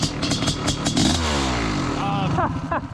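A worn-out Honda CR500 dirt bike engine roars close by at high revs, its pitch dipping and climbing through the middle of the burst, with some clatter and what sounds like voices mixed in.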